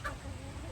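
In the rain, a chicken gives one brief cluck close by at the very start, over a steady hiss of rainfall and low rumble, with no other calls after it.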